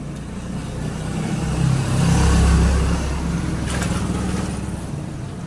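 A parked tricycle's small motor idles nearby with a steady low rumble that swells briefly in the middle before settling back, with no talking.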